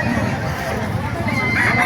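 Chickens cluck and a rooster crows amid a busy hubbub of voices and market chatter at a market in Bocaue, Philippines, the birds close and mixed into the crowd noise.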